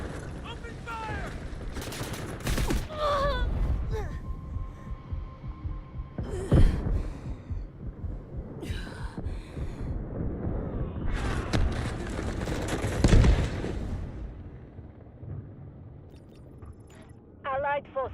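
Gunfire in the video game Delta Force crackles in repeated bursts and single shots amid a low hum, mixed with shouted in-game voices throughout.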